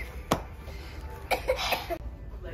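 A child coughs after running in a shopping mall, one sharp cough followed by a short cluster of coughs, close and fairly loud over quiet room noise.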